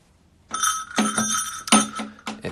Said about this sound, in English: It's a Tibetan prayer bell